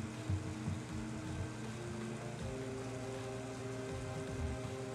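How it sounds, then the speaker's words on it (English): Rain in the video game Mother 3, a steady patter of falling rain with a soft low rumble and faint pulsing thuds beneath, continuous and moderately quiet throughout. "all the rain put out the fires luckily"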